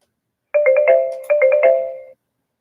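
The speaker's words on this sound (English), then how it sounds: "hey, the phone's ringing." A telephone rings on a radio sports talk show, two clear electronic ring bursts in quick succession, loud and close with no talk over them.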